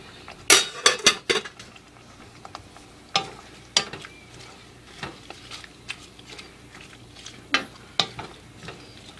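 Egg and vegetables cook in a pan with a soft sizzle beneath sharp, intermittent clanks of a utensil scraping and tapping the metal, loud bursts at first then spaced, quieter hits.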